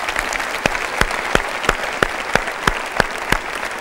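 Studio audience of a Turkish television talk show applauding, dense sustained clapping with a few sharp, evenly spaced louder claps punctuating it at a steady rhythm.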